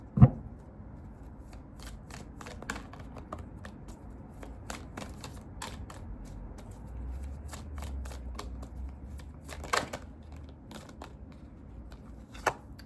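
A deck of tarot cards shuffled by hand, a steady run of soft riffling flicks and slaps for about thirteen seconds, close and fairly quiet, with no talk.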